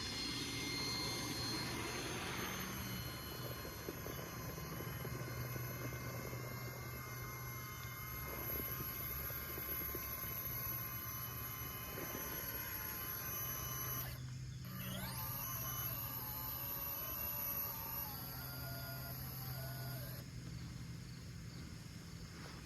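Traxxas TRX4 and TRX6 RC trucks straining in a tug-of-war, a continuous high motor whine with shifting pitch and tire scrabble, steady and fairly loud throughout.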